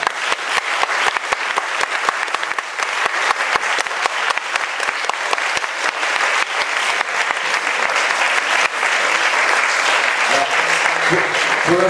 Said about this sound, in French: Pour l'instant, vous les applaudissez